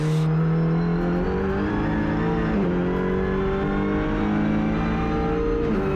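Audi RS3 LMS touring race car engine at Bahrain International Circuit, heard from onboard: a loud, steady roar that climbs in pitch through the gears, with brief dips at each shift.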